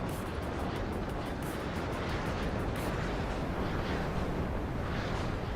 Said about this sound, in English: I'm going to artillery these guys.